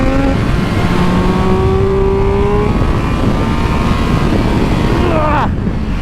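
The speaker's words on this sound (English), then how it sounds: "Just doing a little bit more engine braking." A loud Triumph Speed Triple RX three-cylinder motorcycle engine drones steadily under engine braking as its pitch slowly falls, with a brief rising shift near the end.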